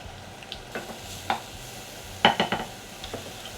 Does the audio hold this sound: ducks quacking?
no